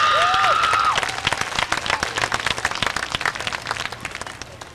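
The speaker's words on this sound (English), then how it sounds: "Ladies and gentlemen, once again, a nice round of applause for Phil Weeks" A racetrack crowd applauds race winner Phil Weeks at a short-track speedway, clapping rising quickly after a brief tone, then continuing as dense rapid claps that gradually thin and fade.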